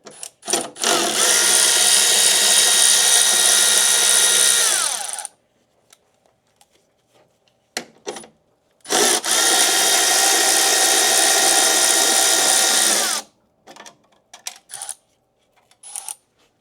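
Two long bursts of a high-pitched power tool whir loudly while removing E12 Torx bolts from a Mercedes C63S downpipe, separated by quiet gaps with small metallic clicks and taps.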